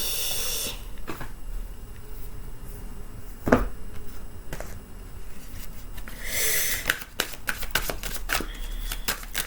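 Tarot cards are shuffled by hand in a quiet room, giving soft papery riffles and brushing bursts near the start and again around the middle-to-late part, with small taps in between and no talking.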